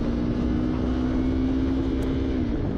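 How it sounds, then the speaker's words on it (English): A loud, steady Yamaha R3 motorcycle engine drone with a low rumbling exhaust tone, revved high, that holds constant throughout, close and continuous. "Hey, you hear that exhaust, baby?"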